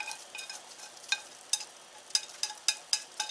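Korean la-myun noodles with egg are stirred in a pot, with a run of close utensil clicks and scrapes in an irregular rhythm, several sharper knocks toward the end, and no talk.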